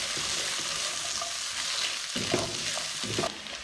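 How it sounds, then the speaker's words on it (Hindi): Mixed vegetables, green chillies and cabbage, stir-fried for vegetable fried rice, sizzling steadily with close scraping stirs and a few louder clatters of the spatula near the end; no one talks. "तो 2 से 3 मिनट मैंने इन वेजिटेबल्स को फ्राई कर लिया है।"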